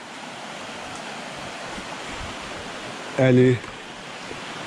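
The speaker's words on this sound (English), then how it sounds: "there we go, that's the other waterfall" Waterfall in woodland after recent rains, flowing stronger than usual: a steady, even broadband rush of falling water runs throughout, with a brief voice cutting in near the end.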